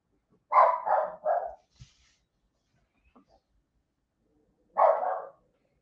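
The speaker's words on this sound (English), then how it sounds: "saying hello to whoever's outside barking" A dog barks outside, giving three quick barks in a row, then after a pause of several seconds a single further bark. The barks are fairly close and clear over an otherwise quiet room.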